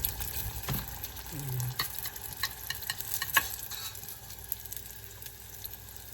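Homemade vegetable spring rolls frying in very hot cooking oil give a continuous crackling sizzle up close, with scattered sharp pops and a few utensil knocks, and no talking.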